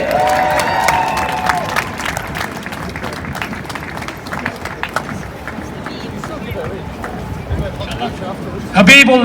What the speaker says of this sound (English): Everybody again, round of applause for Benji.